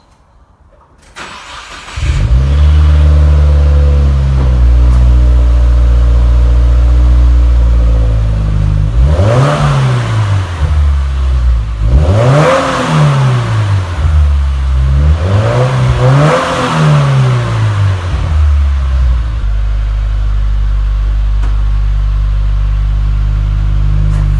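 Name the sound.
car engine revving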